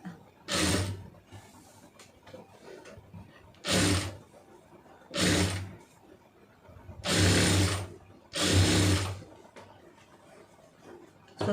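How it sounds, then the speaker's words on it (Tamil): A sewing machine stitches a round neckline in short bursts, about six loud whirring runs of a second or so each, separated by brief quiet pauses. "ஒரே மாதிரி ஃபுல்லாக தைச்சிட்டு வந்துடுங்க"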